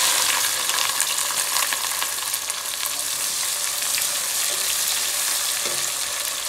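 Sliced onions drop into hot oil with whole spices such as cardamom, cinnamon, bay leaves and star anise, frying in a steady close sizzle with faint stirring clinks and no talk.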